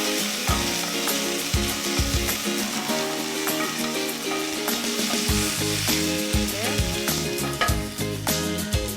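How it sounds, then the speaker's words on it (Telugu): Coarsely pounded spices and aromatics fry in a pan with mutton for Uzbek plov, giving a loud, steady, close sizzle with crackling and scraping stirs throughout and no talk. "వీటిని కొంచెం ఫ్రై చేసుకుందాం, మళ్ళీ మాడిపోతే కష్టం అయిపోతుంది."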